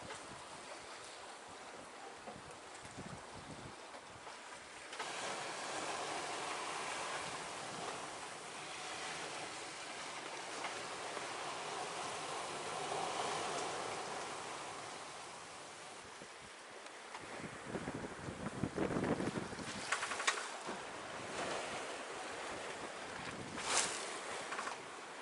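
A single-handed sailboat at sea between Indonesia and Malaysia moves through a soft, continuous wash of waves and wind against the hull, with occasional louder splashes near the end.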